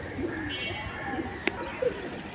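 At a pigeon market, including high-flying pigeons, soft low coos come in a few short, scattered bursts over a faint background murmur, with one sharp click in the middle.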